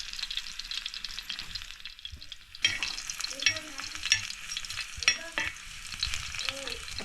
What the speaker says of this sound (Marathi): पहिले आपण लसूण फोडणीला दिले आहे